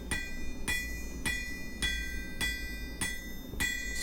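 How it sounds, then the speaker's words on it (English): A blacksmith's hammer strikes hot stock on an anvil while drawing it down, seven evenly spaced ringing blows about half a second apart, each with a bright metallic ring, close and clear with no speech. "the hammer's hitting half on, half off, and then we're just running the hammer forward along the material"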